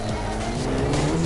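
A drift car in the CarX racing game squeals its tires in a steady, loud, sustained screech over a constant engine roar, with no voices heard.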